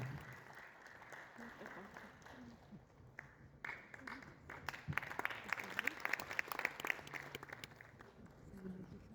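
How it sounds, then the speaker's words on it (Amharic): An audience at an Ethiopian award ceremony applauds an honored philanthropist. Scattered, fairly faint clapping swells into fuller applause midway, with voices talking over it. "ያንሳል ጭብጨባ"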